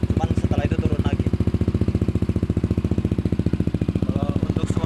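Yamaha Aerox scooter idling smoothly, a close, steady rapid thrum of even engine pulses running the whole time while someone talks over it in short bursts.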